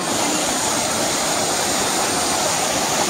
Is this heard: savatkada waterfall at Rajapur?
yes